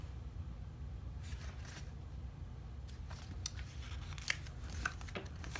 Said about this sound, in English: so you just get your scissors out and you cut it